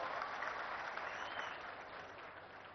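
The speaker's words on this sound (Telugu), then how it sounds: "గట్టిగా చప్పట్లు కొట్టి అందరూ అభినందించాలి" An audience at a government cleanliness programme event applauds in a dense, even patter that holds steady, fairly soft and somewhat distant, tapering a little toward the end.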